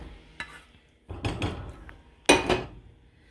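A utensil scrapes and clinks against a pot while mixing Texas sheet cake dough in a few irregular bursts, close by, with quiet pauses between strokes.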